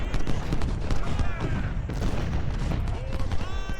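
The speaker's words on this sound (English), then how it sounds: "You may as well start shooting away." Video game Ultimate General: Civil War, at the Georgia Railroad battle: a volley of musket fire crackles as a dense, continuous rattle of overlapping shots, loud and sustained, with someone talking over it.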